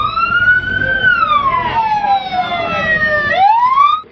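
A loud, close ambulance siren wails in long sweeping rises and falls, with traffic rumble underneath, in Bhiwandi, India.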